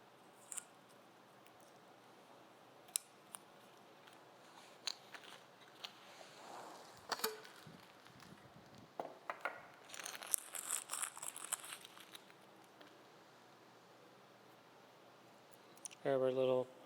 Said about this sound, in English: Let's take the wrapper off.